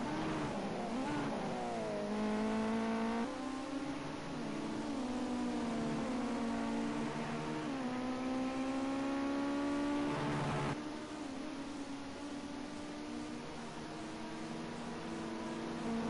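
Ginetta Junior race cars lapping Oulton Park near the Island hairpin, engines whining and shifting pitch as they brake and accelerate, a steady close roar over about sixteen seconds with a cut midway.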